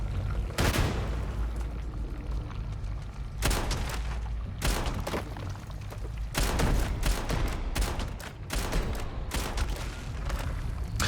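Bursts of A7 weapon gunfire in Starfield crack out loudly in several separate volleys, each a rapid string of sharp shots with short pauses between them, inside an enemy-held room.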